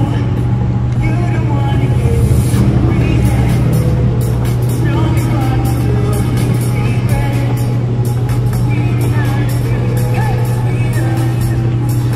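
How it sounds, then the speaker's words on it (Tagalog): A noisy motorized tricycle drones past with a loud, steady low engine hum and rattling, heard close while people talk over it. "Ang ingay ng tricycle."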